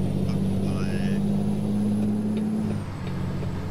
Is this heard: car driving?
yes